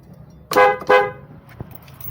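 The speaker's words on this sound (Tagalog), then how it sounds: "testing na natin yung ginawa natin na uh, busina" Two short, loud car horn honks from a newly installed horn on a Multicab mini truck, in quick succession, close by, followed by a faint click in an otherwise quiet setting.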